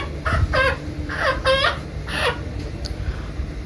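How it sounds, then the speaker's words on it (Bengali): Live chickens at a poultry shop cluck in several short, bright bursts close by, with a low steady murmur of background noise underneath. "তো আমি এসেছি বাবুর এখানে মুরগি নিতে।"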